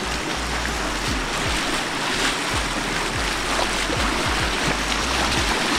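A waterfall at Moola Chotok in Khuzdar, Balochistan, rushes close by a camp, a dense, steady roar of falling water with broadband hiss that holds unbroken throughout.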